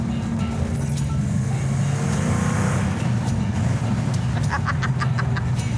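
A car engine roars close and loud as the driver punches the throttle, a dense continuous low rumble with some rattling clicks near the end.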